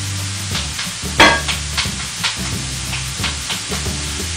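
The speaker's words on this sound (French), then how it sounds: "Mes petits poireaux et mon saumon sont bien revenus." Leeks and salmon frying in a pan, with a steady close sizzle and repeated stirring scrapes at a regular rhythm, all with no voices.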